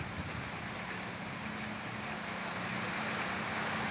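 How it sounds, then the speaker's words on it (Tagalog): Rain driven by strong wind pours steadily, a loud continuous hiss and rush with a low gusting rumble underneath, no voices. "Ayan na, ang ulan."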